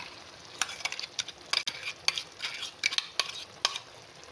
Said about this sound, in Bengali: এবার আমি যে বেটে রেখেছিলাম কাজু বাটারটা এখানে অ্যাড করে দেবো।